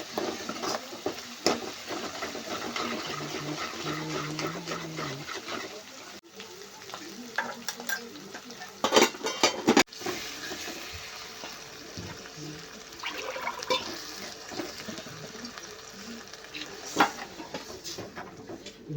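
Crushed garlic, cumin and green chillies stirred and frying in a pan for a tur bean amti, a steady sizzle with spoon scrapes and occasional clatter throughout.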